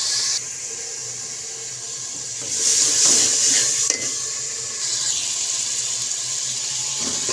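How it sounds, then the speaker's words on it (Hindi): Potatoes tipped into a pan of frying onions and chilies for aloo bhujia, a brief loud burst of sizzle and stirring rising over steady background frying, then settling into continuous cooking noise. "मिर्च को भूनते हुए 10 मिनट तकरीबन हो चुके हैं। अब यहाँ हम डालेंगे आलू।"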